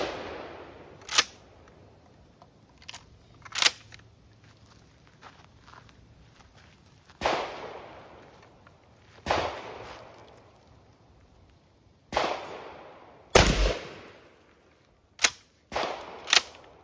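A Mossberg Maverick 20 gauge shotgun firing 3-inch shells outdoors, several sharp loud blasts spaced a few seconds apart, each followed by a brief decaying echo, with quiet handling noises in between.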